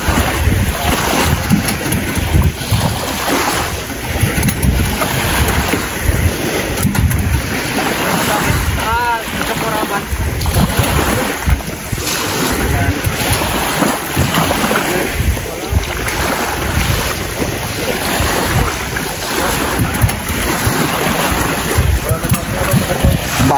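A new engine on a small outrigger boat runs steadily over rushing water and wind, a loud continuous roar with splashing, and voices occasionally heard underneath.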